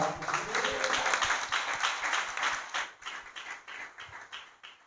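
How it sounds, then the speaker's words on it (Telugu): A church congregation claps together at a Sunday service to praise God, a dense, lively burst of applause that holds steady before loosening into scattered, fading claps. "చప్పట్లో కూడా దేవుడిని స్తుతిస్తారా?"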